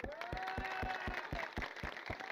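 Crowd at an election rally for actor Dipjol clapping in a steady, rhythmic beat, loud and close, with a tonal voice or music running underneath throughout.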